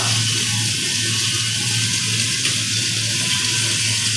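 Fish sizzling and frying in hot oil in a pan for a Bengali kalia, a steady dense hiss that runs without a break, with no talk over it.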